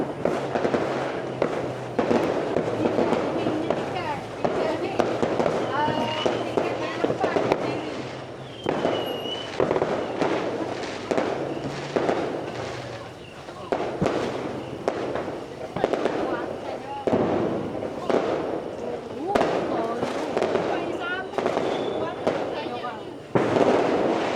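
Fireworks burst almost continuously over a town on Hari Raya night, dense crackling and popping explosions at varying distances, loud and steady throughout, with voices talking faintly beneath.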